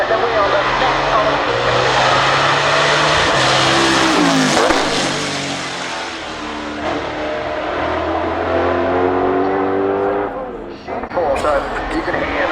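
A Ferrari 488 Challenge race car at the Goodwood Festival of Speed accelerates hard, its engine note rising and falling through several gear changes, loud with a commentator talking over it.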